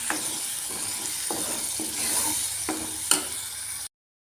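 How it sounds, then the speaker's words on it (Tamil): Tomatoes frying in oil for a chickpea curry, a close steady sizzle broken by several light scrapes and taps of a spoon stirring the pan, with no one talking. "நல்லா மிக்ஸ் பண்ணிக்கோங்க தக்காளியோட பச்சை வாசனை போகிற வரைக்கும் நல்லா மிக்ஸ் பண்ணிக்கோங்க"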